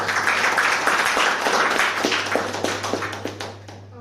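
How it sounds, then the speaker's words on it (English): A crowd at a speakers' forum breaks into dense applause, many hands clapping together loudly and continuously, with a few sharper claps standing out before it starts to thin near the end. "Put a round of applause."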